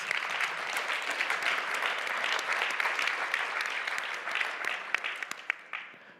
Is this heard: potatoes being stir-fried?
no